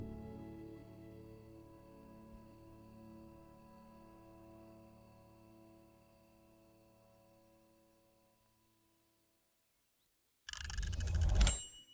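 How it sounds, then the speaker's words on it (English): A single chime rings out and decays slowly over several seconds into silence, then a sudden loud burst of noise cuts in near the end. "And that's the chime."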